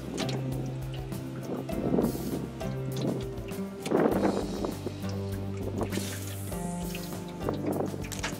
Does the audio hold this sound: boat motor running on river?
yes